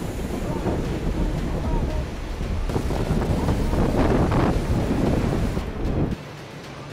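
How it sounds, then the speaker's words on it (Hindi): Strong cyclone winds roar at Paradip, Odisha, a dense continuous rushing that buffets the microphone loudly for several seconds before dropping off sharply near the end. "पारादीप में तेज हवाओं के बवंडर से लोगों की सांसें अटकी"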